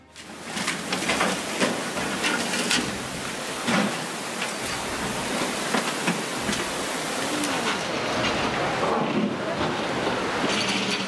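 Floodwater surges down a swollen river in Turin, Italy, a loud continuous roar of rushing water with wind buffeting the microphone and occasional heavier splashes, no voices.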